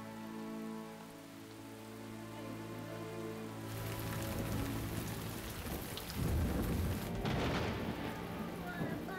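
Heavy rain pours down during a thunderstorm, a steady loud hiss that swells partway through, with deep rolling thunder rumbling in near the end; soft music fades beneath at the start.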